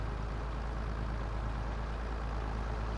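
A tractor engine in a farming video game runs with a steady low diesel drone, loud and even throughout with no talk over it.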